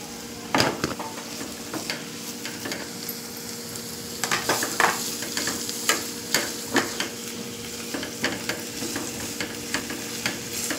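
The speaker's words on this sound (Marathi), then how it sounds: "थोडीशी तेलावर परतवून घ्यायची।" Chopped capsicum sautéing in a little oil for veg Manchurian, a steady sizzle with frequent sharp spatula clacks and scrapes on the pan as it is tossed, growing busier toward the end.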